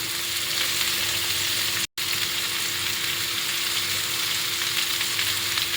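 Raw mango pieces are stirred in a hot pan for a sweet mango pachadi. A continuous, loud, close sizzle runs throughout, broken only by a very short gap, with no voices.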